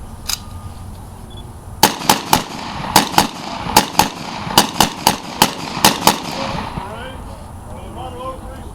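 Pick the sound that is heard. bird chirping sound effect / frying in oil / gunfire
gunfire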